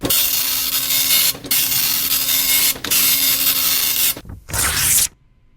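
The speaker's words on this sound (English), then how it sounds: "It's a printer, a dot matrix printer, it's called." A dot matrix printer buzzes loudly through several long print passes separated by brief pauses, then falls silent.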